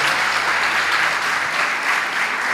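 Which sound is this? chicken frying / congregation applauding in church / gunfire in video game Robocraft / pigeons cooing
congregation applauding in church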